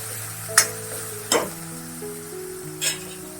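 Matki sprouts stirred into a sizzling Kolhapuri misal gravy in a pan on low gas, three distinct clinks of a spoon against metal over a low steady sizzle and hum, close and without talk.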